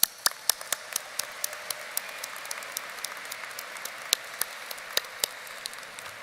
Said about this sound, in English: Graduates, please join me in giving them a round of appreciative applause.